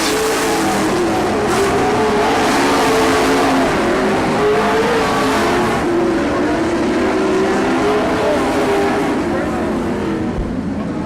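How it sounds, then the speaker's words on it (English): A race car powers out of turn 4 and across the finish line at a dirt track, engine droning loudly with rising and falling pitch while an announcer calls the finish over the PA. "Coming out of turn 4, hard-fought victory for the 14 of Dan Source"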